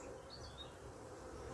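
Honey bees buzz softly around a wintered beehive, a faint, continuous hum with a few brief higher whines as individual bees fly close by.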